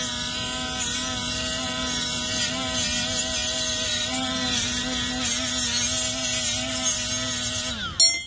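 Milwaukee battery-powered die grinder running at high speed, a sustained high-pitched motor whine with steady harmonic tones, close and continuous until it spins down abruptly at the end.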